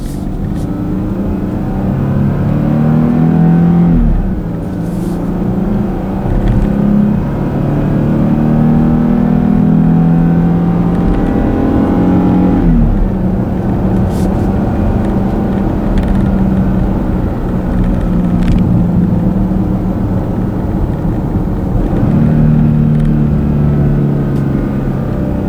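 A 2016 Porsche Cayenne GTS on the road, its engine droning steadily with rising and falling revs, tire and wind roar filling the cabin from start to finish with no talking.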